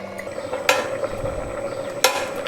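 Large onion pieces go into a simmering jackfruit curry in a pot, with a soft steady bubbling sizzle and two sharp clinks of a utensil against the pan.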